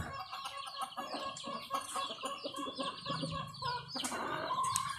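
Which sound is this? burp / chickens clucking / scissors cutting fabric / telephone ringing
chickens clucking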